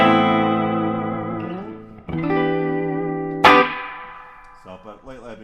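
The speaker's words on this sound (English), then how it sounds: "enough that you can hear the reverb, but not so much that it drowns everything" Electric guitar run through a pedalboard reverb, with a few sustained distorted chords that ring out and decay into a wash of reverb tail, ending in a short wobbling phrase; a brief spoken word is heard.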